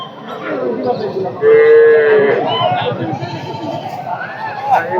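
Qurbani bull lowing at the busy Barmi cattle market, one loud drawn-out moo midway over constant crowd chatter and people talking nearby.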